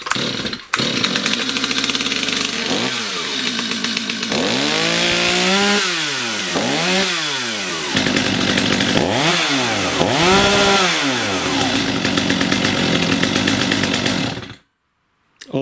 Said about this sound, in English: Now what I'll do is start up the saw and show you that the bogging is gone.